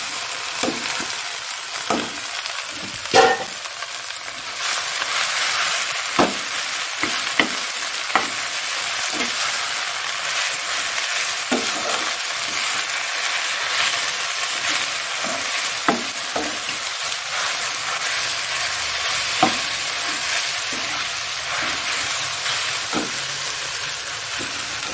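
Leafy greens with browned onions sizzle steadily in a hot pan, with occasional sharp clacks of a utensil stirring and no talking.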